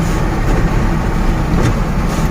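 A loud, close ZIL 130 truck hauling sand and gravel drones steadily on a rough village road, its engine rumble blending with broadband rattling and wind noise.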